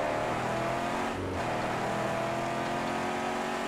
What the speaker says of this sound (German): Oh, wie der Wagen abgeht.